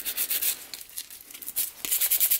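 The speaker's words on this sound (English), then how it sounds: "Just on the side here with a brush." A brush scrubs Jaguar XJ6 brake parts clean, making rapid, rhythmic bristly rubbing strokes that come close and fairly loud with only brief pauses.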